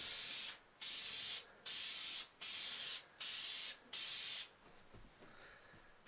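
Aerosol spray paint applied to a Sako Quad rifle stock in six even, long hissing bursts with short gaps between, close and steady, followed by quiet handling noise.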